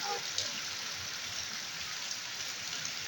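Rain falling steadily with some wind on a foggy day, an even, soft hiss of drops on surfaces heard quietly and continuously, with no one talking.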